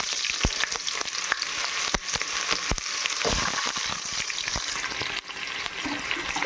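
Sliced onions dropped into hot oil for a mutton biryani give a loud, continuous crackling sizzle, with sharp clicks and knocks of a utensil scattered through it and no speech.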